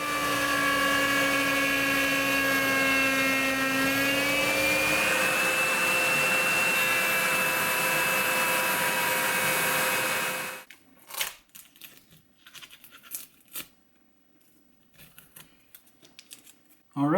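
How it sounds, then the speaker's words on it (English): Wood router cutting a bridge cavity into the front of a superstrat guitar body, a loud steady high whine with a slight pitch drop partway, running continuously for about ten seconds before cutting out to quiet shop noise and faint knocks. "that concludes the routing of the front for the bridge cavity"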